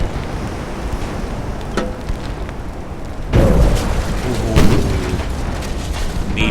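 A torpedo strikes a battleship in Ultimate Admiral Dreadnoughts, setting off a sudden loud, deep boom with rumbling water and a rushing wash that lingers for a few seconds after a quieter stretch of naval background noise.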